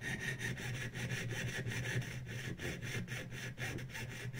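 A jewellery fretsaw cuts with a steady back-and-forth rasp, each stroke a short scratchy pass in an even rhythm, heard close and alone.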